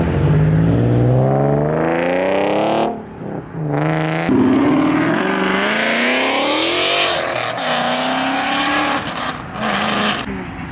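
A straight-piped Porsche GT3 accelerates hard from inside the car, its engine wailing up through the revs in several rising pulls with sharp breaks between gear changes, loud and close throughout with no talk.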